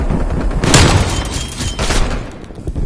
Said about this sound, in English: Semtex grenade.